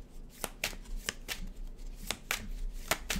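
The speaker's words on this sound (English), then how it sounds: "Two more shuffles." Tarot cards being shuffled by hand, a series of quick crisp riffling bursts in an uneven rhythm, close and fairly quiet with no talking.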